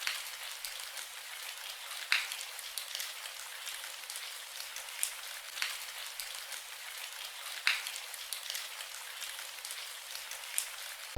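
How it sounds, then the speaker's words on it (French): Soft rain falls at dawn, a faint steady hiss with scattered crisp drop ticks, heard alone without voices. "Écoutons le bruit d'une pluie d'aurore qui déchoit."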